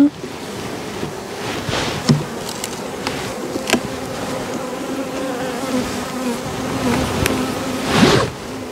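Honeybees buzz around an open beehive where an open brood frame holding the queen is being inspected, a steady close drone with a few louder passes of individual bees near the microphone.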